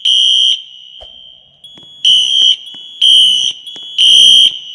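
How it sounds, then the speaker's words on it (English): Wheelock NS classroom fire alarm in a video game blares a loud, shrill electronic horn in repeated bursts, each about half a second long, separated by brief quieter gaps. "Classroom number 2 fire alarm."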